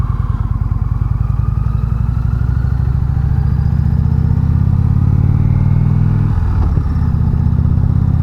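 A 2019 Indian Chieftain Limited motorcycle engine running loud and close, a continuous throbbing low rumble that rises smoothly as the throttle opens, with a brief dip and shift before settling into a steady drone.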